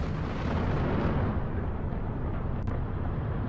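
A Russian missile strike on Kyiv at night, captured as a dense, roaring blast rumble that fills the whole stretch and stays loud and broadband throughout, with no voices.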